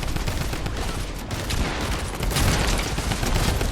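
Dense Fortnite gunfire in a ranked match, a near-continuous burst of loud shots filling the whole stretch with no clear pauses and no talk.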